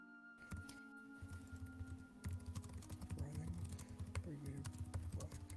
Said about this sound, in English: That's typing okay. is super loud.